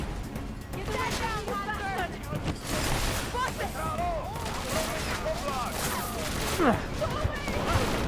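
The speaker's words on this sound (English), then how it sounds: "look at all those robots out there firing at me" Robot enemies fire guns in Deus Ex: Mankind Divided, a dense continuous barrage of gunfire with bursts and rattling shots layered over a steady game background, while someone talks over it.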